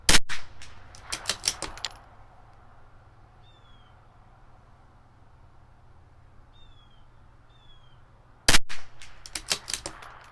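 Two loud, sharp rifle reports from a CZ 457 LRP firing Sellier & Bellot Canadian Match ammunition at a 100-yard range, one at the start and one near the end, each followed by brief echoing clatter with a quiet outdoor stretch between.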